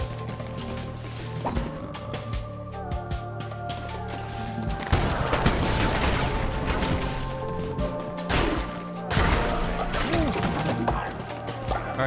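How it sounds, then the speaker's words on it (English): Explosions and combat effects from the video game Cult of the Lamb: a sustained barrage of crashing, gunfire-like bursts with bright impacts, surging in loud waves over a steady musical background. "I kinda like this explosion."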